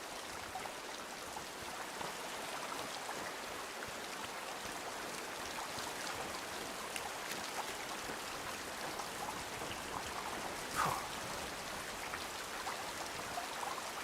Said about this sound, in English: getting next to this water during the rain is really, really loud